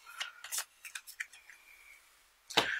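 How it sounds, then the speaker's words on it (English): A deck of cards being shuffled by hand during a Bible-verse collectible card game: scattered soft riffles and flicks, ending in a louder, sharper riffle burst near the end, quiet and close with no talking. "And then shuffle up my deck. Shuffle, shuffle, shuffle."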